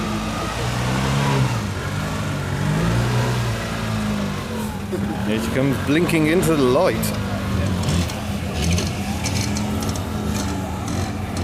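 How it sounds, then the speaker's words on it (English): A small two-cylinder Daihatsu Cuore kei car engine at a microcar rally, idling and revving smoothly as the car rolls out, with someone talking over it throughout. "Very smooth, the little engine."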